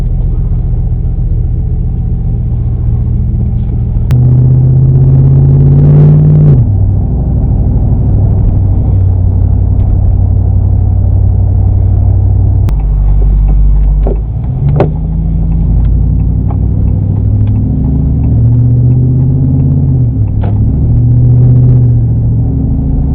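Car driving on a road, captured from inside by a dash camera, a loud low engine rumble with several swells of acceleration and easing off, plus occasional brief bumps and clicks, no voices.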